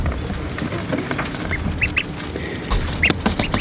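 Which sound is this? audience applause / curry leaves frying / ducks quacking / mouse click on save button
ducks quacking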